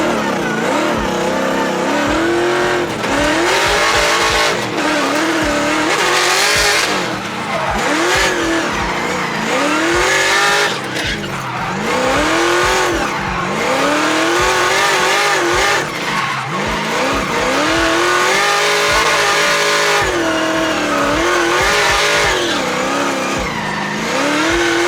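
A Mazda Miata race car on a qualifying run at Englishtown Raceway, its engine loud and close throughout, repeatedly revving up and dropping through gear changes, with tire squeal as it pushes through corners.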